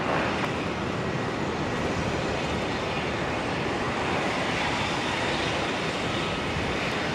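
Broad, steady roar of a jet airliner taking off from runway 19 left at Brisbane Airport, a constant rumbling wash of engine noise heard from a distance without voices.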